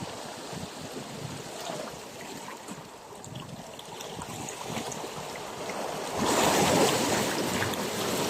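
Strong ocean waves rolling against the shore in Bataan, a steady wash of surf and wind that swells into a louder crashing rush toward the end.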